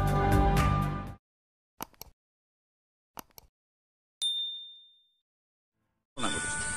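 A bright notification bell ding rings out clearly and decays, set between short clicks and brief bursts of other sound effects.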